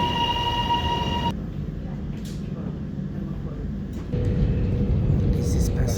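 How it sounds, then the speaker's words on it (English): Interior of a passenger train departing Sunshine Station, heading city bound: a steady low rumble of the rail car rolls throughout, with a tonal hum early on and a brief shift in pitch partway, while faint voices murmur beneath the ride noise. "First time taking a train from Sunshine Station."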